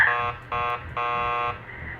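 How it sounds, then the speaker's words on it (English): A door buzzer rings in the horror game Killer Frequency, sounding three harsh electronic buzzes of uneven length, followed by a quieter trailing tone. "keep calm and ring the buzzer"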